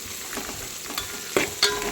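Onions, spices, green chillies, coriander and curry leaves sizzle and fry in a pan as a soft steady hiss, broken by a few sharper scrapes of stirring, close and moderately loud, with no talk.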